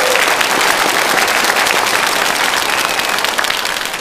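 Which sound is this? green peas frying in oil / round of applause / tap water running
round of applause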